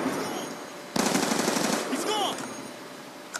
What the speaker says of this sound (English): I think I'm using the MTAR gun